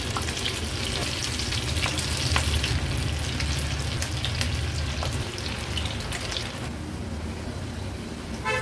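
Chili bhajji (mirchi bhaji) fritters frying in hot oil give a steady, dense crackling sizzle that runs close and loud the whole way through, with no voices.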